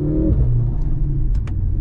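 A new 680 hp Mercedes-AMG C63 accelerating, heard from inside the cabin as a loud, close engine rev that climbs sharply, then settles into a deep steady growl.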